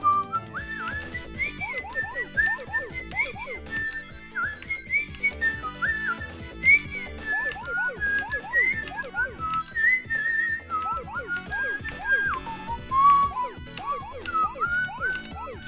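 Someone whistles a wandering, bending melody for about fifteen seconds, fairly close and steady, over a busy musical video-game soundtrack with no talking.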